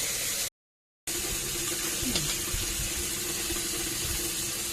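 Tap water runs steadily into a sink while vegetables are washed, a close continuous splash after a brief silent gap at the start.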